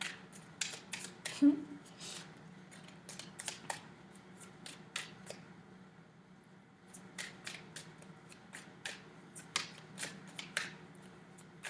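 Tarot cards being shuffled by hand, a run of crisp riffling and snapping bursts in two clusters with a quiet pause between, close and fairly soft with faint room noise.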